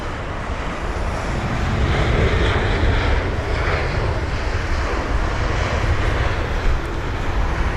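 A British Airways Airbus A320-200 jet lands at Heathrow as a steady, broad engine roar with wind noise, moderately distant and unbroken, with no voices.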